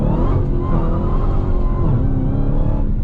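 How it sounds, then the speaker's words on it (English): A 2022 Dodge Challenger Hellcat Jailbreak drives under power. A loud, close engine roar carries a rising supercharger whine that climbs, dips briefly and then settles, with no talk. "Listen to this supercharger whine."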